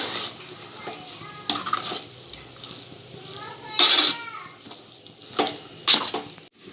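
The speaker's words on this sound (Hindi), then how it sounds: "मसूर को हम मसाले में अच्छे से मिक्स करेंगे।" Masoor lentils stirred into a frying spice masala in a pan, with scraping spoon strokes and bursts of sizzle over a low cooking hiss, a voice talking over it.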